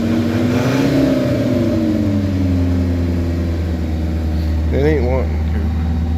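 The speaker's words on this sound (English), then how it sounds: "I don't know why it has such a high idle." A 1986 Chevy Chevette engine holds a steady, high idle close by, a constant low drone running through the clip while someone talks over it.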